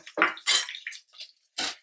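Ginger garlic paste being stirred in a bowl for Telangana-style bitter gourd curry: several short, close, wet scraping and clinking strokes separated by brief pauses.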